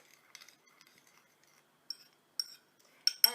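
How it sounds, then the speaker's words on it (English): A spoon clinks a few times against a glass or bowl while stirring sugar and dry yeast into water, sparse and close, with silence between the bright taps. "Give it a quick stir."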